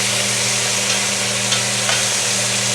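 Beef chunks for beef bourguignon searing in a hot pan, with a loud, continuous close sizzle and a few faint clicks, heard alone.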